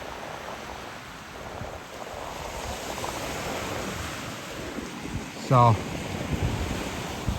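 Atlantic Ocean surf washes steadily against the shore under constant wind buffeting the microphone, a broad continuous roar with one brief bump partway through and a single short spoken word.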